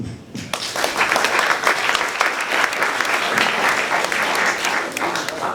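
A crowd claps steadily and loudly at an upper school candidates' meeting, sustained applause filling the room for several seconds with no voices standing out.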